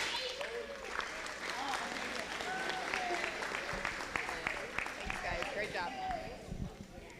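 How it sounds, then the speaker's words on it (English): A school board meeting audience applauds the Science Olympiad team, producing a dense, steady wash of many hands clapping throughout, moderately distant, with a voice speaking over it. "Let's give them another big round of applause for all their hard work"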